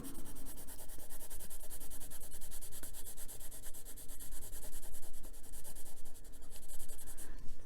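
Putty eraser rubbing back and forth on paper to lift a highlight in a coloring page: a faint, continuous scratchy scrubbing with quick repeated strokes, close and unaccompanied by speech.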